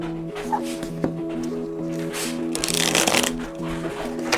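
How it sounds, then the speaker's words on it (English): Metanoia Marseille playing cards being shuffled by hand, a crisp riffling flutter building to a denser burst midway, close and moderately loud over a steady background hum. "I'll give this a shuffle to show you as well."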